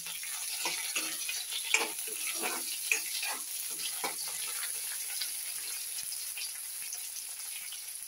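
Curry leaves and green chillies spluttering in hot oil as the base of a potato stir-fry, a steady close sizzle with quick crackling pops that fade toward the end, no voices.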